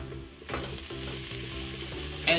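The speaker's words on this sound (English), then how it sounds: "We'll cook this onion until they are nicely browned." Onions browning in a hot pan, a steady close sizzle with a few stirring scrapes and a brief clatter at the end, with no talking.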